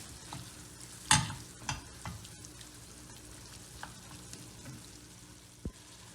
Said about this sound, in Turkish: Şimdi bir tatlı kaşığı dolusu domates salçam var. Onu ekliyorum. Güzelce karıştırıyorum.